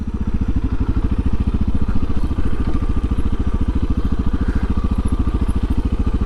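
A Suzuki DR650 dual-sport motorcycle climbing a dirt hill, its single-cylinder engine thumping in a steady, loud, continuous pulse close by with no talk over it.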